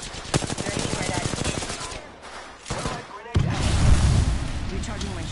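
Rapid automatic gunfire in a sci-fi shooter video game gives way to a heavy, booming grenade blast near the end, with a short pause before the explosion; a voice speaks briefly.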